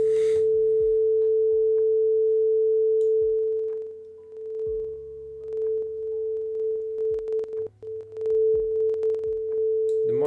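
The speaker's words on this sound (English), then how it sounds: "We have sine waves. We can modulate." A steady synthesized sine tone, generated by a C++ music program, holds loud and continuous throughout, wavering slightly in level in the second half, with faint low clicks beneath.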